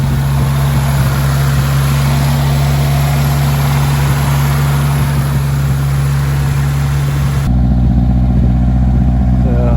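A Toyota AE86 engine idles steadily with a low, even rumble and a constant hum, loud and close, with a slight change in tone near the end.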